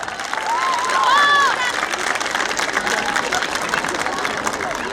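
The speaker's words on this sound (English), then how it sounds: "Come on, applaud louder." At a school annual day event, an audience applauds after a dance performance. The clapping is broad and continuous, with crowd murmur and a brief cheer or voice rising early on.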